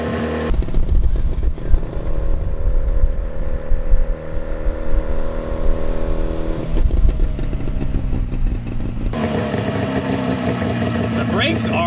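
A 1970 Subaru van's smoky two-stroke engine runs and revs with a buzzy, clattering drone close to the listener, the pitch rising and shifting over twelve seconds while people talk over it.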